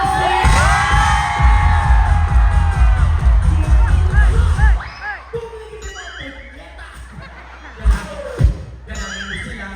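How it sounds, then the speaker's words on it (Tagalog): A live audience claps and shouts at a comedy-style stage show, a dense burst of clapping and cheering for the first half that fades into scattered claps, whoops and loud shouts, with voices calling out over the crowd. "Pumalakpak po na may kasama yung nagsasabing pangit, si Lassie!"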